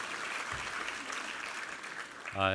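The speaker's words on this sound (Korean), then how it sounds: "우리 하나님께 감사와 영광의 박수 올려드리겠습니다" A congregation claps during a church worship service, a soft, diffuse patter of applause that continues evenly for a couple of seconds and ends in a brief louder tonal sound.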